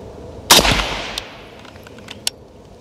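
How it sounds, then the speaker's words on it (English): A rifle fired at a military shooting range: one sharp, loud shot cracks close by and rings into a decaying echo, followed later by a much fainter, brief report. "Another shot to look doggone good."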